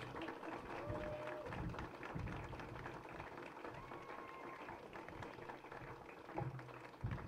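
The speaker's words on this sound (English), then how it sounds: "Please give them a round of applause." Graduation ceremony audience applauding past and present faculty, a continuous spread of clapping from a crowd heard at moderate distance, steady throughout with faint voices underneath.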